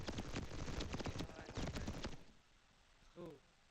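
Footsteps in the shooter game Reaper Actual patter fast and rhythmically for about two seconds, then stop, leaving quiet with a brief faint sound near the end.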